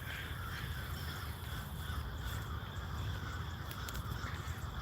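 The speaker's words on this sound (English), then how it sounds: "Here come the crows." Crows cawing against a steady broadband background hum, the calls faint and somewhat distant, with several short caws scattered across the stretch and no one speaking.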